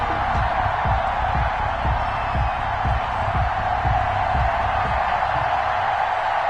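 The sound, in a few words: stadium crowd cheering, NFL Dallas Cowboys vs Arizona Cardinals, EA Sports video game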